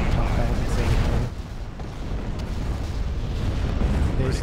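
Destroyers explode in a Star Wars space battle video game, a continuous heavy rumble of blasts that dips briefly and then rolls on at a steady, loud level.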